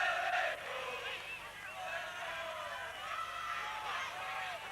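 A large stadium crowd of around 16,000 at an Ajax v Celtic football match in 1982 makes a steady, distant roar that swells and dips, with a commentator's voice heard over it.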